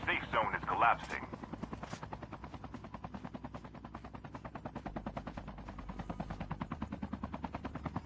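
Helicopter in Call of Duty Mobile battle royale, rotor chop beating steadily and loud throughout, with bursts of gunfire near the start and voices talking over it.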